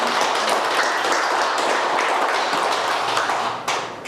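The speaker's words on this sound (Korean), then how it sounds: "우리가 박수로 위로하는 마음으로 박수로 응원하겠습니다." A church congregation applauds, a dense, steady wash of many hands clapping in a large room, filling the whole stretch before fading slightly at the end.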